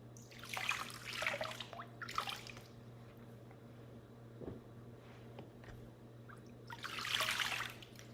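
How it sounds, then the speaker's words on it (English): Water trickles and splashes in three short bursts as feet are rinsed off, with a later louder pour from a bucket, quiet pauses in between, and a low steady hum underneath. "We can rinse off our feet."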